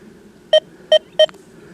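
A Deus 2 metal detector running a fast program over nails at an old site gives three short, loud, evenly spaced tonal beeps, clear and alone over faint background hiss.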